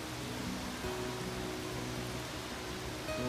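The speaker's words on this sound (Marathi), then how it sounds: "पाऊस जोरात पडायला लागला बघा" Heavy rain falls in a steady, dense hiss that holds evenly from start to finish, with no voices over it.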